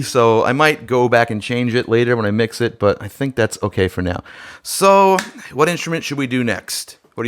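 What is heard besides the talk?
No everyday noise stands out behind the speech.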